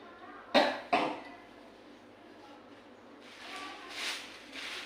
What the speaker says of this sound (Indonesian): Maka ini batuk lagi.